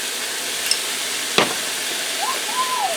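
Mushrooms, onions and garlic fry in a skillet with a steady, close sizzle and hiss, broken by one sharp stirring scrape midway and a few faint squeaks from the pan toward the end.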